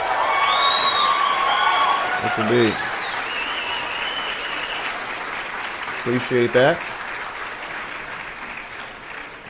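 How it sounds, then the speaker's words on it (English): A round of applause and cheering for a guest on a nightly market-review show, sustained clapping heard under someone speaking. "Give this brother a round of applause."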